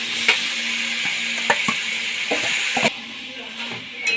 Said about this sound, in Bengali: এবার আমি মাছের মাথাগুলো দিয়ে দিচ্ছি এর মধ্যে